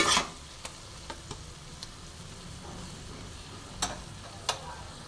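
Onion and spices slowly cooked down in a pan for a chicken chop recipe wrapped in pumpkin leaves, giving a faint, steady low sizzle with a few sparse spatula clicks and no talking.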